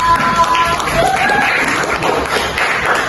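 A class applauds during a microteaching lesson, with a brief burst of clapping from students. The clapping is moderately loud and fairly dense, and scattered voices mix in.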